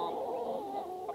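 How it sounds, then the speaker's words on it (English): Chickens inside a coop give soft, close clucks and murmurs in a steady low chatter with no talking over them. "today I thought I'd come down here and show you the chickens."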